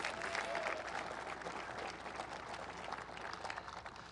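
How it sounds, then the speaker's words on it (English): Audience applause at a Joe Biden campaign event in Arizona, a steady broad wash of clapping from a sizable crowd that holds for several seconds and fades slightly toward the end. "You should applaud that."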